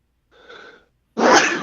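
A single sharp, loud sneeze bursts out close by, preceded by a softer inhaled gasp as the breath is drawn in; no talking during it.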